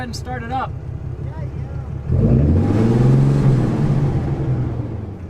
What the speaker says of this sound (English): Tommy, you can go ahead and start it up.